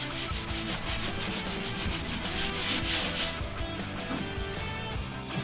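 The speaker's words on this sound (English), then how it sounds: "So we've started doing some sanding on some of this" Hand sanding cuts through the paint on a 1950 Chevy's body panel for a patina look, a steady, close, rhythmic rasping of abrasive strokes that lightens slightly toward the end.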